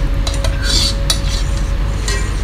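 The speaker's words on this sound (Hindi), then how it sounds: "इसे अच्छी तरह से भून लेंगे मसाले को तेल में" Ground masala paste stirred and fried in 2–3 spoons of oil in a pot for Mughlai chicken curry, with a steady low sizzle under scattered metal spoon scrapes and clinks against the pot.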